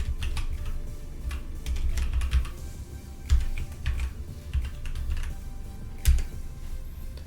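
Fingers type on a computer keyboard in quick irregular bursts of close, crisp key clicks, with short pauses between runs and a few sharper single taps standing out.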